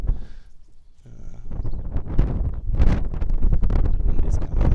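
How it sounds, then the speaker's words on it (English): Wind blowing across a seaside morning on Tivat Bay, a steady broadband rush buffeting the microphone, dipping briefly then building into continuous gusty roaring that fills the scene. "the wind is coming. It's a bit windy these days"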